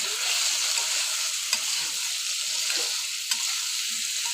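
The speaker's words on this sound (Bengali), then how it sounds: "এই মশলার সাথে এখন আমি ভালোভাবে আলুগুলো মিশিয়ে নিচ্ছি" Potatoes being stirred with spices in a hot frying pan, giving a steady bright sizzle throughout with two short sharp scrapes of the utensil against the pan.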